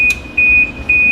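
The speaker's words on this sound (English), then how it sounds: "sorry, that's the timer." A kitchen timer beeping: a series of sharp, high electronic beeps at a steady pace, loud and close, with no voices.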